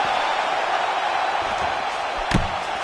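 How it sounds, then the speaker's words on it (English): A steady arena crowd roar from the UFC 4 fighting video game fills the scene, with a sharp thud of a landed strike near the end lifting the noise briefly. "you hear the crowd react every time they come together"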